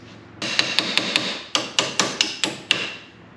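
About eleven sharp metallic hammer blows drive a punch against a stubborn bolt during a Polaris RZR XP Turbo differential swap. The strikes come close and evenly spaced, each ringing briefly before the next.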